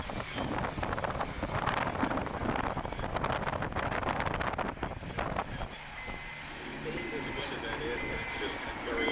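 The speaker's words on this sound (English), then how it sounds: "these winds are going to be blowing all night" Strong gusty wind blows during the Eaton Canyon wildfire in Altadena, Los Angeles, a loud continuous roar buffeting the microphone while a person talks over it.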